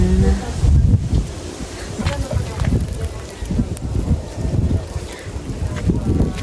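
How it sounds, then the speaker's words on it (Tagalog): Steady rumbling wind buffets the microphone throughout at an outdoor hut during a grilling of skipjack tuna, with low gusty roar and some rustling, while voices talk faintly in the background. "Lakas ng hangin."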